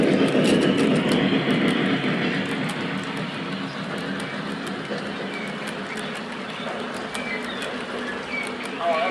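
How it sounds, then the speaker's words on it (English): A Lionel model train pulling a PFE hotbox reefer car puffs smoke as it runs around the layout at faster speed, producing a steady, close rolling rumble with scattered bright chirps and faint voices in the background. "I'll finish off this video with it running around the layout at faster speed, seeing the smoke and stuff"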